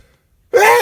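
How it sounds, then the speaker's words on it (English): After a moment of near silence, one person lets out a single sudden sneeze, loud and close, ending abruptly. "I'm going to sneeze."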